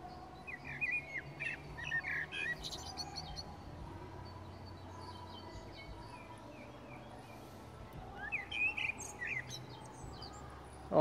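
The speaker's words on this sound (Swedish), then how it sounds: "han har i alla fall en fågel som sjunger vackra sånger för honom" A small bird sings in short, bright phrases in a Stockholm cemetery, moderately distant over a quiet outdoor hum, with pauses between bursts.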